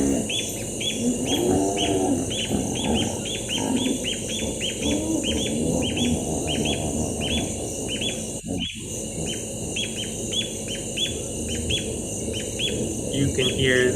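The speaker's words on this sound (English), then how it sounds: "this is a bird that we again have no equivalent here in North America, barbet" Barbet, an African bird, calling in a Southern African safari setting: a steady run of rapid repeated notes continues throughout, with hippos grunting low in the background and a brief thump midway.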